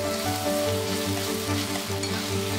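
Kansai-style sukiyaki with udon noodles sizzles in the pan after sake, sugar and soy sauce go in, a steady, close hiss and bubbling crackle under a faint tonal hum.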